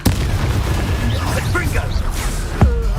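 Spell explosion from the Bombarda curse in Hogwarts Legacy, a sharp burst near the start and another booming hit later, set against constant battle noise with a voice talking over it.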